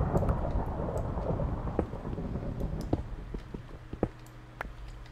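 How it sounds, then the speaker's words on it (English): Steady rain patters in the Minecraft video game, a soft continuous hiss with a low rumble at first and a few faint scattered taps, with no voices over it. "It's raining outside."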